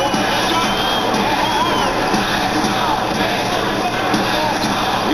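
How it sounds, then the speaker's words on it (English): A dense, loud arena crowd roars and cheers without pause in an NBA 2K21 basketball game between the Bulls and the Pacers, a constant wash of voices and whoops. "the crowd is loving it"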